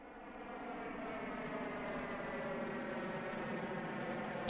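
An airplane in the city-building game Soviet Republic, a steady droning engine hum that builds gently and holds, moderately distant, ending in a brief sharp click.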